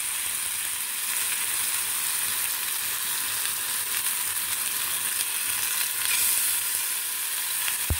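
Fish tikka pieces fry on a tawa over low heat, giving a steady, close sizzle with fine crackling and a brief scrape or clink near the end.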